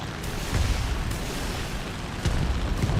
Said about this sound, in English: man, look at those explosions